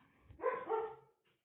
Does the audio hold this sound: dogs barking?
yes